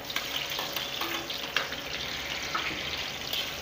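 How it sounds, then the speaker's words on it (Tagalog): Onions are added to browning garlic in a hot pan and fry with a steady, close sizzle and occasional soft stirring clicks, with no voices. "pag medyo mag-brown na yung bawang, ilagay natin yung sibuyas"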